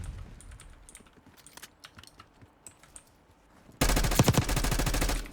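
Automatic gunfire in Call of Duty: Black Ops 6 multiplayer beta on PS4 Pro: faint scattered clicks and distant shots, then a sudden loud sustained burst of rapid rifle fire in the final seconds.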